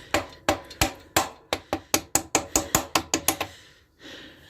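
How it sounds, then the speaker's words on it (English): A rubber mallet bashes at the rear wheel spindle of an Aprilia RS 125: about fifteen close, loud knocks in a quick, fairly even rhythm, followed by a short scraping sound. "So now we can just bash it, get a rubber mallet so we don't want to break anything."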